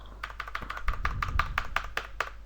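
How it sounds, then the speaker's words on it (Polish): Fast, dry clicks of keys being pressed on a computer keyboard, including the F9 key, a dozen or so taps in quick irregular succession, close and fairly loud, with no talk. "A bo to ja F9 klikam."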